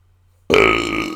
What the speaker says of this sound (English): thought I was gonna burp.